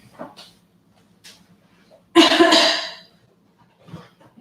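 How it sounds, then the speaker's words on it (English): A single loud throat clearing rings out close by, followed by quiet breathing and faint small sounds. "take a moment in your seat, perhaps to clear your throat."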